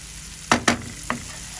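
Shrimp being sautéed bhuna-style in a pan, heard as three short, sharp scraping stirs against a soft background sizzle, with brief pauses between strokes.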